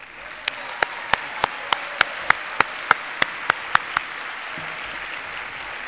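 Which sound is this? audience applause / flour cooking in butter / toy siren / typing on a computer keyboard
audience applause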